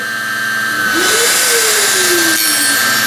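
A table saw and its dust extractor switching on together, a rising motor whine settling into a steady loud hum over broadband airflow roar, close by in a workshop.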